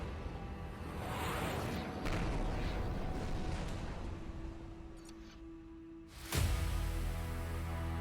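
Rocket and missile strikes from multiple rocket launchers and cruise missiles in the war strategy game Conflict of Nations, heard as a dense rumbling barrage of whooshes and blasts, ending in a sharp, loud boom.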